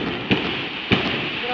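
Firecrackers going off on the last day of Chinese New Year, two sharp distant bangs over a steady background hiss.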